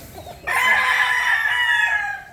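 An Albany gamefowl rooster crows once at close range, a loud, sustained, ragged call lasting nearly two seconds after a brief quiet lead-in.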